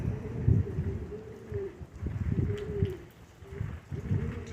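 White homing pigeons cooing in the rain, repeated soft, low rolling coos in rhythmic bursts from several nearby birds, with faint rain patter underneath.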